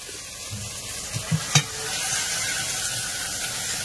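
Pieces of cut desi chicken hitting hot spice paste in a pan, giving a steady close frying sizzle broken by a few sharp stirring clatters near the start, with no talking.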